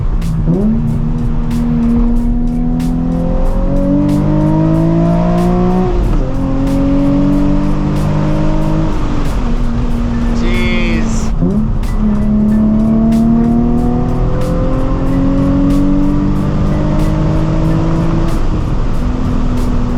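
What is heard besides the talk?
sports car engine revving while driving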